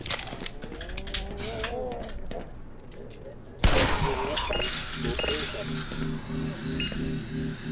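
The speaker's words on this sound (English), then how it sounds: "I'm gonna kill every fucker with one revolver bullet" Revolver gunshots in the Black Mesa video game, a sharp loud blast near the middle standing out over game noise and someone talking through much of the stretch.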